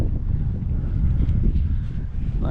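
A breeze buffets the microphone outdoors on a paddle through Okefenokee Swamp, a loud, steady low rumble of wind noise throughout with no talking.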